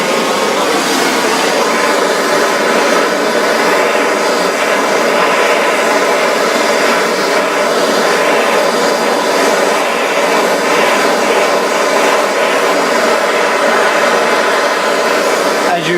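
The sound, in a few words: gas torch heating a copper nickel coin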